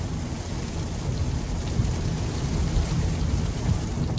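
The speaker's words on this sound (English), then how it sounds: "I'm glad we get to see how this does in the rain" Steady, dense rain patters heavily on a 2021 Kia Sorento Hybrid while driving, a continuous close hiss with low rumbling underneath and no voices.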